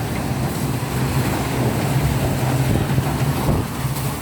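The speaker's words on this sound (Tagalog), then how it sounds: "Oh, grabe yung ulan oh." Heavy rain pours steadily as a loud, dense wash of noise with a low rumble underneath, continuous and unbroken throughout, during a storm with thunder, lightning and wind while children bathe outdoors.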